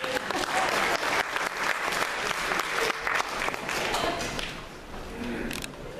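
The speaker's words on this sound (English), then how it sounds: "Let's give them a round of applause." A church congregation applauds volunteers after a segment, a loud, sustained round of clapping filling the room that tapers slightly near the close.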